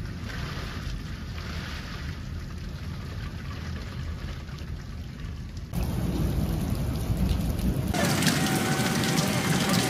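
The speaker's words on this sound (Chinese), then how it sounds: "今天这场雨下的真大" Heavy rain pours steadily in a rural home village setting, a dense close roar of drops on surfaces that swells louder partway through and stays intense to the end.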